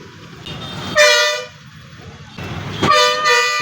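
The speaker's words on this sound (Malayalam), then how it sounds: "ഹോണടി" Bus horn honking at busy Paramakudi bus stand as the bus turns in, two loud blasts, one short and one longer, over vehicle rumble and background chatter.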